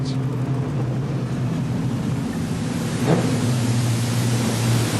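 Modified sedan race cars roar around the dirt oval of Maryborough Speedway, a steady, close engine drone with a brief passing surge midway.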